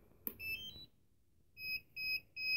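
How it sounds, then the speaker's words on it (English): A DJI Phantom 3 Standard drone controller gives a click followed by a series of short, steady electronic beeps, close and fairly quiet, with no talk. "it'll beep like that if that's down like that"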